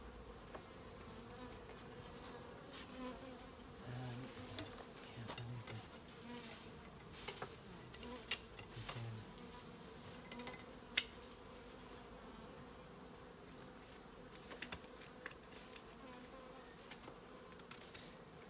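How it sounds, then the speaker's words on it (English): Honeybees buzz steadily around an open hive during honey harvesting outdoors, a dense continuous drone with individual bees passing close now and then. "Move away that bee."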